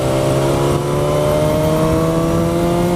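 A BMW S1000XR motorcycle pulls at full throttle in sixth gear from 2,000 RPM, its engine a loud, smooth, steadily rising drone that runs the whole time with no voices over it.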